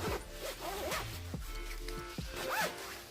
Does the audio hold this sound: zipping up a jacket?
yes